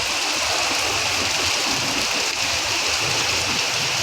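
Heavy rain pours down in a dense, constant roar, close and loud without pause.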